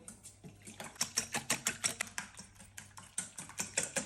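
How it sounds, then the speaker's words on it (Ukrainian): A whisk beats pumpkin waffle batter in a bowl in a home kitchen, giving a steady, fast rhythm of close, scratchy strokes that repeat evenly for several seconds. "Далі збиваємо вінчиком."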